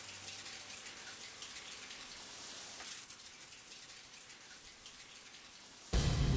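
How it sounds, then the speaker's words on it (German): A shower running in the video game Deadly Premonition: a steady, close spray of water hissing evenly, with a sudden louder rush of noise at the very end. "Läuft auf jeden Fall eine Dusche."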